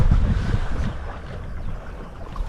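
Steady wind buffets the microphone aboard a Vivacity 650 sailboat under way, a rough low rush with louder gusts at the start and water noise underneath.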